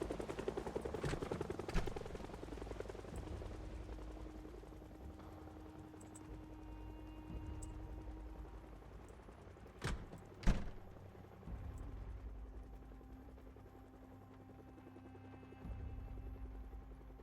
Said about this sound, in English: We'll just sit inside and wait for the helicopter to pass.